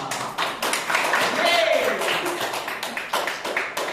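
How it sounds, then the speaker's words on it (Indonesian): A small classroom group claps for everyone during a micro-teaching session, a close, uneven patter of hands with sharp individual claps, while a voice speaks and a brief whistle-like tone rises through the middle. "Tepuk tangan untuk kita semua."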